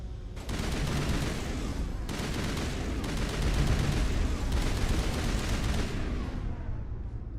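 Sustained, dense automatic gunfire from a weapon in the Mass Effect video game, a loud continuous burst with brief breaks, lasting several seconds with no talk over it.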